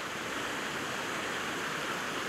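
A waterfall heard from directly underneath it, a steady, loud, broadband roar of falling water that fills the whole moment without a break, with no voices.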